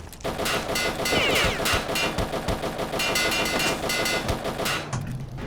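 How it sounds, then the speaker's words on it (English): Sustained gunfire in the video game RealRTCW, a dense, loud, continuous clatter of shots and impacts running throughout with little pause. "Okay, who's shooting me?"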